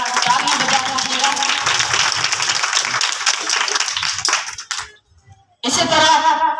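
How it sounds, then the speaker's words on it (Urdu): A church congregation at a Sunday service claps together in a sustained, dense burst of applause, cuts briefly to near silence, then bursts into loud clapping again at the end. "ایک بار مسیح خداوند کے لیے زوردار تالیاں بجاتے ہیں"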